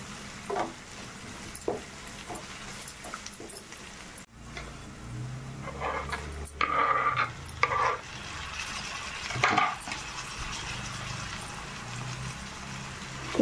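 Sliced onions cooked soft, with a spoon of ginger-garlic paste frying in a pan: a quiet sizzle with intermittent spoon stirs and scrapes over about thirteen seconds.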